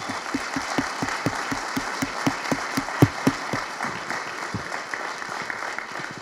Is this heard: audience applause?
yes